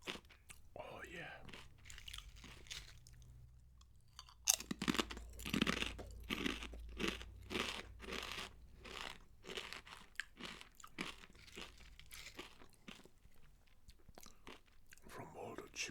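Loud, close crunching of Woolworths kettle chips being bitten and chewed, with repeated crisp snaps in irregular bursts and a few soft mouth sounds between bites.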